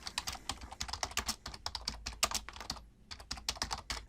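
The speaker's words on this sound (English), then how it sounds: "Let's go to archive.org, type in William Heath Robinson" Quick, uneven clicking of a computer keyboard as a search is typed, close and clear with a short pause near the end before a final burst of keystrokes.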